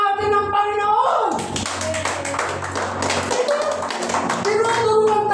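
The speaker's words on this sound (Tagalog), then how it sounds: "palakpakan natin ang Panginoon" Congregation at a worship service clapping for the Lord, a dense run of hand claps mixed with singing and voices, steady and fairly loud throughout.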